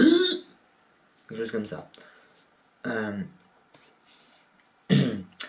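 A voice imitates a whooping cough fit, with short bursts of coughing sounds separated by pauses, each cluster loud and close.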